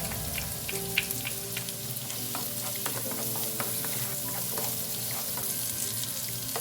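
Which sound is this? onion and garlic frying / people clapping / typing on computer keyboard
onion and garlic frying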